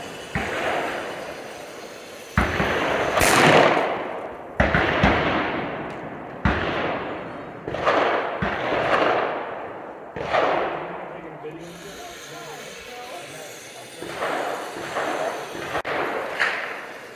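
Handgun shots fired during a tactical shooting drill against moving threats, sharp loud reports in a series of about eight irregularly spaced bursts with echoing tails, under shouted range commands.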